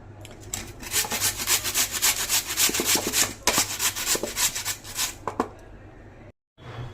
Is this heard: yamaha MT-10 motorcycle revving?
no